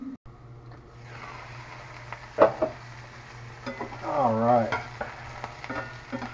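Homemade vegetarian spaghetti sauce simmering and sizzling in a pot, a steady low bubbling bed broken by a few scraping stirs, with someone speaking briefly at the start.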